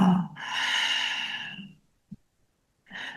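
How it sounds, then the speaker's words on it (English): Deep breathing in a gentle morning yoga practice: a long, audible exhale close to the mic, a brief pause and a small click, then another breath starting. "One more time, inhale. And exhale."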